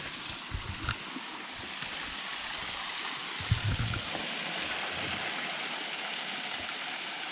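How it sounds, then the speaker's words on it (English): A small waterfall spills into a rocky stream in the hills of northeast Georgia, a soft continuous rush of falling water heard at moderate distance, with a few faint thumps and no voices. "There is a little waterfall up here."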